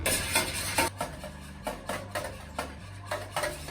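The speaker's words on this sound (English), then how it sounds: "Now all we're gonna do is just gonna whisk this." A wet batter of seasoned mixture is beaten in a bowl with a makeshift whisking utensil, giving repeated clattering scrapes and taps against the bowl in an uneven rhythm, close and fairly loud with no talking.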